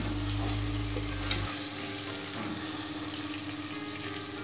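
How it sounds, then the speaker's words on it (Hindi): Raw mango cooking in a pan, with a steady hissing fry and soft scraping stirs, a low hum fading out early and one brief clink. "पूरे 5 मिनट हो गए इसे चलाते हुए।"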